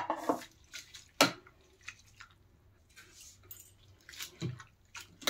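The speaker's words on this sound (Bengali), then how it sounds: "এখন মূলগুলো দিয়ে দেব আর একটু ভালো করে ধুয়ে নেব।" Grated radish swished and squeezed by hand in a bowl of water in a home kitchen, with soft splashes, drips and an occasional clink against the bowl, close and intermittent.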